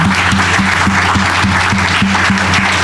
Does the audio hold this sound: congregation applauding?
yes